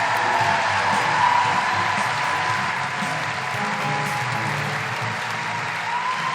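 Sustained applause and cheering from a live audience at a comedy podcast show in Wellington, welcoming a guest onstage; steady, dense clapping throughout with crowd noise.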